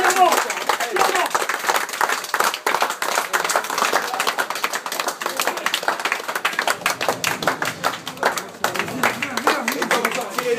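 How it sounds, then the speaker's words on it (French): An audience claps and applauds for young rugby players in a club changing room, with steady dense clapping for about ten seconds and voices talking over it. "Vous pouvez les applaudir."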